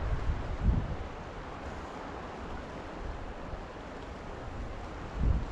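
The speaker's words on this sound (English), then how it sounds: "This wind is just making it just really difficult to present" Wind blows across a river in the Eastern Sierra during fly fishing, a soft, continuous rushing with a few low gusts thumping the microphone.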